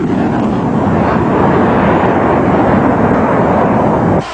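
A Northrop YF-23 jet rolls down the runway on takeoff, a loud, steady, dense roar that holds at full strength throughout and cuts off abruptly at the end.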